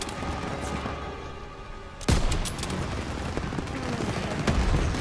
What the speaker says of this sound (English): Start the suppressive fire now!